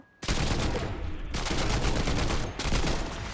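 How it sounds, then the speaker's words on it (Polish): A new rapid-fire rifle in Fortnite shoots in dense, continuous bursts with two brief pauses between them, loud and close, with no talk over it. "To jest mega szybko strzelny, jak można zauważyć."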